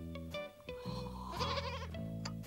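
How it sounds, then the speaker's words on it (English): A goat bleats close by in a garden, several wavering, nasal bleats in a row with nothing else competing. "Useful animals, goats, Jim."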